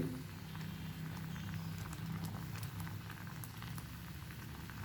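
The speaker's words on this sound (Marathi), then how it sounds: "छान उकळी आलेली आहे." A pot of dal methi usal boils at a steady simmer, with soft continuous bubbling and popping that stay faint and even throughout.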